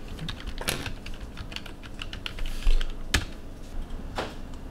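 Keys clatter on a computer keyboard as an IP address is entered, in a quick irregular run of close, crisp clicks with a few louder taps and short pauses, no talking.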